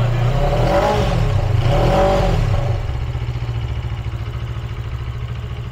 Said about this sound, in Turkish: Biraz da bir üst devir yapıp bırakalım.